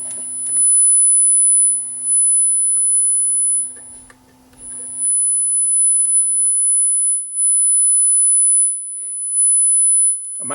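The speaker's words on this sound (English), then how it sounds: "Let's go to 10 kilohertz this time." A steady 10 kHz test tone from an Akai GXC 310D cassette deck sounds as a thin, piercing whine. It holds for long stretches under faint low hum and clicks from the old machine.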